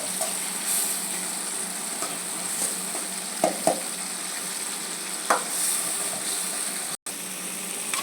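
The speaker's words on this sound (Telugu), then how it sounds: "టమోటా బాగా వేగనివ్వాలి." Chopped tomatoes fry in a pan for a potato and dried-fish curry, sizzling steadily with a constant hiss and a few soft stirring scrapes and taps, with no voices.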